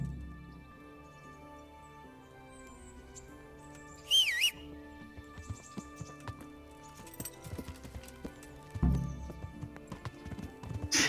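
Horse hooves clip-clop in the video game Kingdom Come: Deliverance, a rhythmic trot under music, with a brief whinny and occasional louder thuds along the way.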